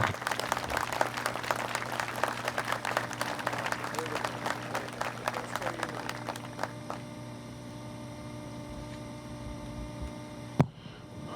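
Applause from the audience at a memorial field opening ceremony, a broad crackling patter over a steady electrical hum that thins out and fades, leaving the hum alone with one sharp knock near the end.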